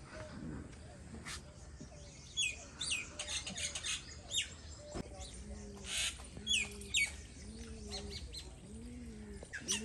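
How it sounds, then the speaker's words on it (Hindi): Birds chirp and call outdoors among plants, with a rooster or chickens clucking in the background. Short bright tweets come and go over steady ambient noise, and a voice speaks at times. "परिंदों की चहचहाती आवाज़ें"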